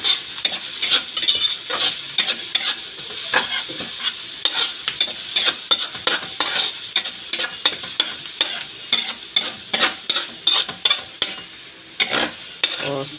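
Garlic and onion sauté in a hot pan for chicken afritada, a bright continuous sizzle broken by repeated scraping strokes of a spoon stirring against the pan.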